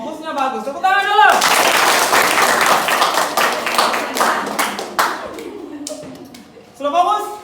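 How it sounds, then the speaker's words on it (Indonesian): Children clapping together in a classroom, a loud burst of rhythmic hand claps that runs for several seconds and then stops, with a teacher's voice speaking before and after. "Oke, fokusnya bagus. Tepuk tangan dulu."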